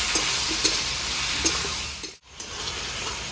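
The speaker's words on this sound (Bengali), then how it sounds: "তো বন্ধুরা মশলাটা আমার ভাজা হয়ে গেছে" Spices for a village-style fish curry frying in a pan and being stirred, with steady close sizzling and periodic scraping stirs; no talking.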